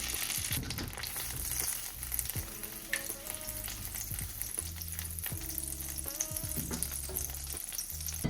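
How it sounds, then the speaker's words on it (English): Butter browning in a pan for brown butter cinnamon rolls gives off a quiet, steady frying sizzle. Faint background hum and tonal kitchen noises sit beneath it. "I'm gonna put the butter in the pan so it can brown."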